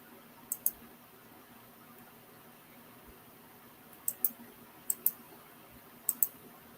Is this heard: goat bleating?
no